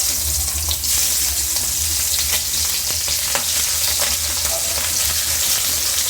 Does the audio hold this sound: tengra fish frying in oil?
yes